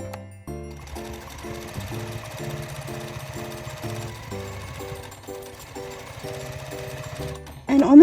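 Domestic sewing machine stitching fabric at stitch length 2.5 along the very edge of a Christmas sewing project, a steady rhythmic mechanical chatter of needle strokes running continuously at moderate volume, ending with a brief louder burst.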